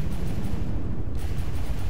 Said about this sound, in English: cram cannon shot against us